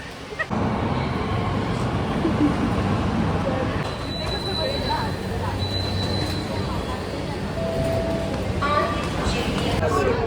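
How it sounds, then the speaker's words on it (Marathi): Inside a moving metro train, a continuous low rumble and whir of the carriage fills the space, with faint tonal whines and muffled background chatter from passengers. "बसलोय मेट्रोमध्ये. मे बी आवाज नाही ना तुम्हाला, थोडा खूप नॉईस आहे ते."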